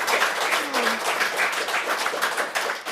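Steady applause from a crowd, dense overlapping claps at constant loudness for a few seconds, with no voices above it.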